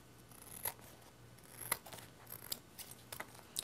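Scissors snipping along a straight line through duct tape, a handful of sharp close crisp cuts spaced irregularly over a quiet background, with no voices.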